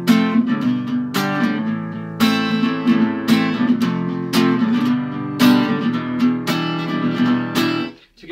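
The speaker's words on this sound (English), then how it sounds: "So if we unmute the strings, it sounds like this." Acoustic guitar strummed with open, unmuted strings in a steady rhythmic pattern, full ringing chords with sharp attack accents recurring about every second, close and loud, no talking, fading out at the end.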